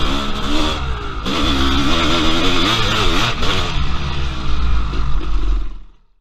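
A Honda CR500 AF-converted big-bore 500cc two-stroke motorcycle pulls low-RPM wheelies uphill, its engine loud and close with a chugging, wavering note that rises and dips before cutting away at the end.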